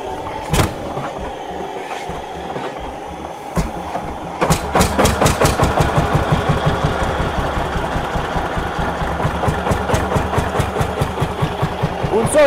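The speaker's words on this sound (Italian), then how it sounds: "chiudendo la valvola il motore va in compressione e la macchina si avvia" An old threshing-machine engine is cranked, its decompression valve closed, then catches and settles into a loud, steady, rhythmic chugging that continues close by.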